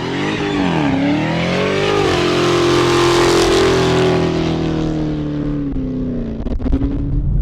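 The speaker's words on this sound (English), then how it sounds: "So boom, did my burnout." A 2020 Dodge Charger SRT Hellcat Widebody roars through a sustained burnout, its engine holding a loud, steady high-rpm howl that rises early and then stays pinned before easing off near the end, with no talking over it.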